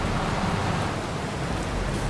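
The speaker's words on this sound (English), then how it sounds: "I guess I'm gonna have to wait until the rain stops" Rain in the video game Farming Simulator 22 makes a steady, dense hiss of downpour, even and unbroken across the brief stretch, with no voices.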